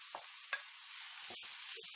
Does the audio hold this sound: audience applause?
no